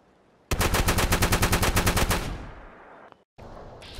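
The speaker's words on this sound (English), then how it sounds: "you can shoot this weapon as fast as you can pull the trigger off of your controller, as I'm about to demonstrate" A legendary double-barrel shotgun in Fallout 4 fires rapidly at trigger-pull speed, a loud close burst of about fifteen shots over roughly two seconds, then a decaying tail and brief silence before faint game ambience returns.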